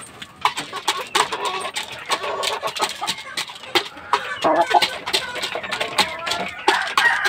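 Hens cluck in a steady stream of short, close calls, layered over one another, while a person talks in the background.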